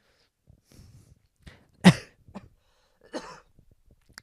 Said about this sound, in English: you even made me have a coughing fit just then